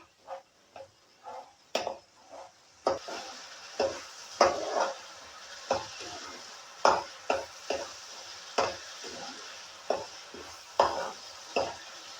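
Tomato puree for aloo dahi curry frying in a pan over high heat, a steady soft sizzle broken by regular stirring scrapes and clinks of a spoon against the pan, about one every second, with no talking.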